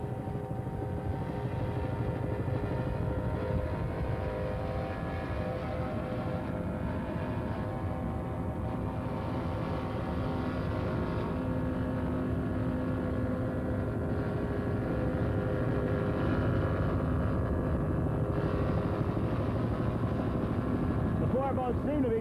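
Loud, continuous engine roar of offshore powerboats racing on the Detroit River and Lake St. Clair course at the 1983 Stroh Signature Cup, a dense steady drone that never lets up.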